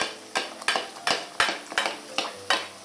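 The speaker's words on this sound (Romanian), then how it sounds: "Le prăjim așa, dăm ulei în permanență deasupra pe ele, la foc iute." Yeast-free dough of flour, water and salt fries in hot oil in a pan over high heat while oil is spooned over it. Sharp utensil clinks against the pan repeat about three times a second above a steady low sizzle.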